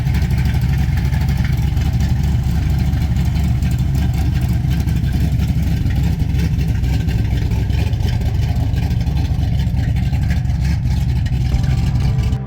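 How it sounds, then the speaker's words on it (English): A 355 small-block V8 with a dirt track cam and head work, fitted in a 1978 Chevrolet K10, runs steadily with a loud, lumpy low rumble throughout, close to the engine and without talk. "it's a 355 with a dirt track cam"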